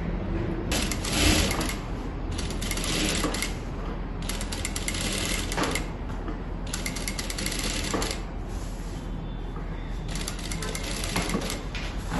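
A sewing machine stitches a kameez neckline in rapid mechanical bursts with short pauses between runs, loud and close, with someone talking over the stitching.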